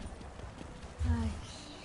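Horse hooves clip-clop at an easy walking pace with a brief snort, set against a soft ambient background in The Elder Scrolls Online.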